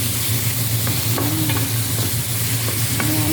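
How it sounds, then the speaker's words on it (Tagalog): Shrimp sauté in a hot pan for ginataang hipon, with a loud, steady sizzle and some stirring scrapes and clinks throughout. "Habang ginigisa po natin yung hipon"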